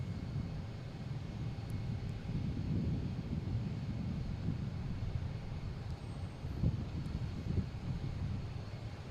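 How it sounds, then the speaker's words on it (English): A Cessna 402 comes in to Boston Logan from Nantucket as a steady, low engine rumble with broadband wind-like noise. The sound holds fairly even throughout, moderately distant, with no voices. "We have a Cessna 402, not JetBlue, coming in from Nantucket."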